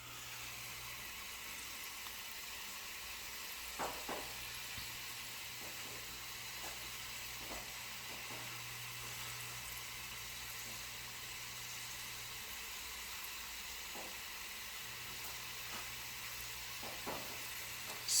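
Puff-puff dough balls frying in hot oil, a steady close sizzle and hiss running throughout with scattered faint pops and bubbling ticks, no talking.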